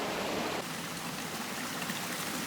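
A small stream flows outdoors in nature, giving a soft continuous wash of trickling water that sounds slightly louder in the first half-second, then steadies, with no voices.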